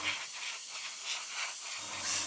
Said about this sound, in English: thinned with the rapid thinners and spraying it on very lightly works better